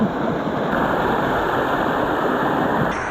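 Water poured steadily over a head during an outdoor hair wash while wild camping, a loud continuous splashing rush lasting a few seconds, with no talk.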